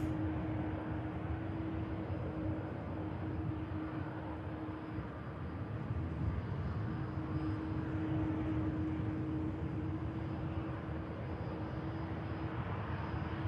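Pegasus airliner taxiing at Manchester Airport, a faint, steady distant engine drone with a constant mid tone hum over low rumble, even and unbroken with no voices.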